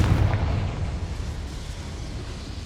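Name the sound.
Confringo explosive spell in Hogwarts Legacy video game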